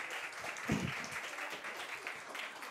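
An audience applauds steadily for a singer at a live stage show, a dense wash of clapping throughout with faint voices underneath.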